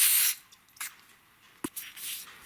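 Carb cleaner sprayed into the sprocket drum of a chainsaw: a short, loud hissing burst at the start, followed by a few faint clicks and a softer later hiss, with no talking.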